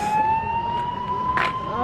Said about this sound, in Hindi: यहाँ पे सिर्फ एम्बुलेंस जा रही है या फिर पुलिस की गाड़ियाँ।